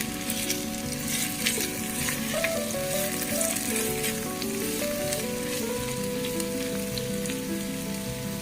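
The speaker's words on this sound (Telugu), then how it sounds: "నెక్స్ట్ ఆలు, బీన్స్, సో అన్నీ ఒకసారి పైకి కిందకి కలుపుకోవాలి" Potatoes and beans sizzle steadily as they fry in a pan for a vegetable biryani, a continuous close crackle with soft scraping as everything is stirred together, no voices.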